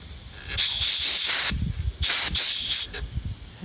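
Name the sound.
air hissing out of tire poked with a screw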